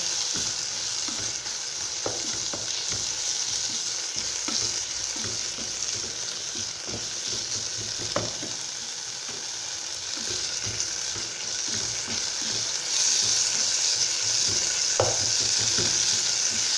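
Grated coconut dry-frying in a pan sizzles steadily while being stirred, with scraping sounds recurring throughout.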